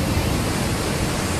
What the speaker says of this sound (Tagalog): Dito pa rin tayo sa tabi ng dagat. Ayan po, napakalakas ng alon.